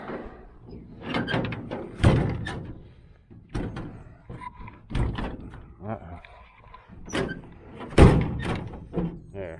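The sliding and hinged doors of a 1969 Chevy van, being fixed for rattles, shut with several solid thunks and slams at irregular intervals, close by, while someone talks between them.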